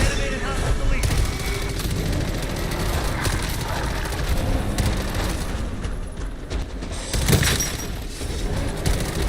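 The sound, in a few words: gunfire in a video game (Call of Duty)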